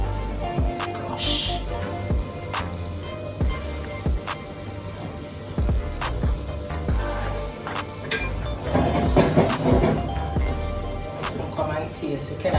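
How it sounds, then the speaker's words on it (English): Curry shrimp simmering in a pot for a Jamaican-style dish, a steady sizzle and bubbling patter with occasional clinks, while a voice talks over it. "So we're gonna cook the shrimp now for about 5 to 6 minutes."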